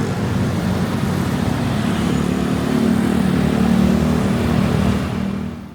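Bangkok street traffic of cars, diesel trucks, tuk-tuks and two-stroke motorbikes forms a continuous loud roar of engines, with a nearby vehicle revving and swelling midway before the din eases slightly.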